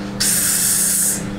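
A kitchen pressure cooker lets out a single loud, steady hiss of venting steam lasting about a second, over a low background hum.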